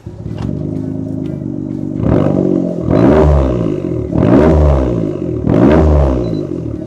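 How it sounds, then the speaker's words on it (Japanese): A turbocharged Suzuki Alto HA23V fitted with a TakeOff Bakuon-kun 2 aftermuffler idles loudly up close, its deep, steady exhaust rumble rising in three rhythmic blips of throttle with no talking. "ちょっとだけアイドリングしてもらっていいですか？"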